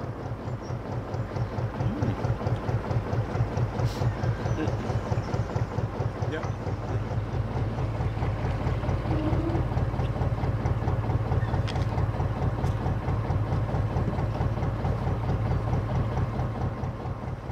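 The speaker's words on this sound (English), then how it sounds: "A little bottleneck here, so I've come to a crawl and I'm just letting this boat through." A narrowboat's engine idles and chugs steadily nearby on a canal as it slowly passes, a continuous low throbbing rhythm holding level throughout.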